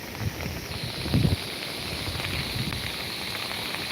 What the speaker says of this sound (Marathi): हा मुसळधार पाऊस हा अशा प्रकारे चालू आहे मध्येच वारा येतो आहे पाऊस पण चालू आहे